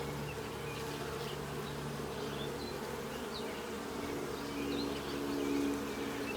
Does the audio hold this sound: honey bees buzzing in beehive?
yes